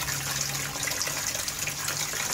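Water gushing steadily from an aging aquaponics pump running at reduced flow, a continuous close splashing rush with a faint low hum beneath.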